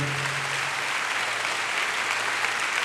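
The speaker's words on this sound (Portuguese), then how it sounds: "Vamos aplaudir ao Senhor." A church congregation applauding during a sermon, continuous broadband clapping from many hands, loud and even without a break, with a low steady hum beneath.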